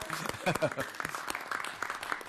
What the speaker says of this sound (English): Now we can do clapping.